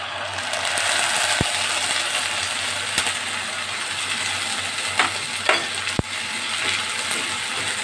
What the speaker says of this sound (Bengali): পেঁয়াজগুলো আমার হালকা হালকা লাল হয়েছে এবার এটাতে দিয়ে দেব আমি আদা রসুন বাটা পেস্ট